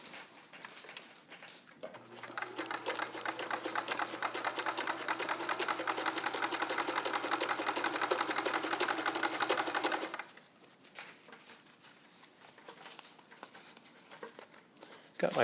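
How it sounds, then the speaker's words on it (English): An all-metal Kenmore 158.1941 free-arm convertible sewing machine running a zigzag stitch, a steady fast mechanical whir and tapping for about eight seconds, close and even, then stopping to quieter handling noise. "Let me come over to what will be normal zigzagging."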